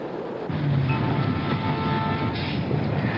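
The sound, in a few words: commuter train passing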